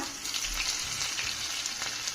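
Crushed garlic with cumin sizzling in hot oil for a tempering, a dense continuous crackling fry heard up close and alone.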